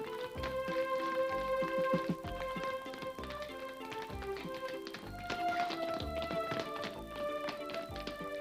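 Tap dancing with heel clicks and steps, sharp rhythmic taps in quick runs over loud piano-like music, continuous and close throughout.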